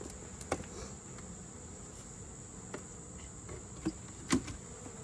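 A thin, steady buzz of honeybees lingering in an orange hive after it swarmed, faint and continuous, with a few light knocks and taps from handling the hive.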